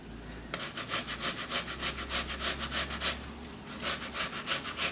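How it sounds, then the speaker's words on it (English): Tomatoes being grated into a bowl make a rapid, rhythmic rasping scrape, a steady run of close, even strokes with a short pause near the end. "I'm going to grate 3 tomatoes into this bowl and I'm going to get rid of the peel."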